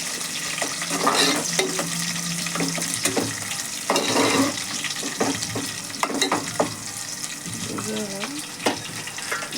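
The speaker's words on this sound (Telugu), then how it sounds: "మీడియం పెట్టి మిక్స్ చేయాలి" A pan stirred over a medium flame, with steady sizzling, repeated scraping strokes of a spoon and a few metallic knocks, all close and moderately loud.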